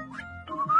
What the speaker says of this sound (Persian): حالا دستاتون رو مثل یه پرنده تکون بدید و سوت بزنید